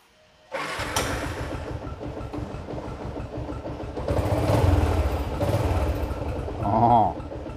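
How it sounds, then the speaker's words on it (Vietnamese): A 2010 Yamaha Exciter 135 manual-clutch motorcycle fires up after a brief quiet moment, then idles steadily close by with a slow, even engine chug that swells briefly later on. "Bây giờ mình sẽ nổ máy nha."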